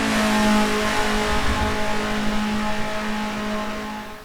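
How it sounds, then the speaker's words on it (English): A race car engine in Assetto Corsa screams at high revs on the laser-scanned Targa Florio road course, loud and sustained with a brief dip around a gear shift, no talking. "I can hear the high RPM of a GTA. Shift gears."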